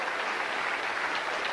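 Crowd applause breaks out at a 2004 men's quarter-final English pool match, a steady, dense patter of clapping filling the moment, with no voices over it.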